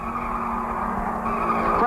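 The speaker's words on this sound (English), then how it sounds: "There's a car spinning." Race car spinning out with skidding tires at the 1967 Southern 500 NASCAR Grand National race, a sustained tire squeal and engine roar mixed with crowd and announcer talk throughout.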